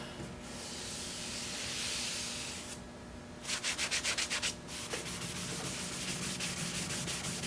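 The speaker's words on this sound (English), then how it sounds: "Makes it hard to sand with a big disc like that." A large sanding disc grinds over the yellowed plastic headlight lens of a 2005 Cadillac STS, giving a steady loud rubbing hiss that turns to a rapid pulsing rasp midway, then settles back to an even rub.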